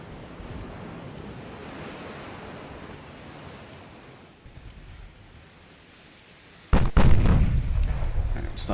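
Heavy naval gunfire from warships in the naval battle game Ultimate Admiral Dreadnoughts booms out suddenly after a stretch of rolling ocean surf and wind, then keeps rumbling.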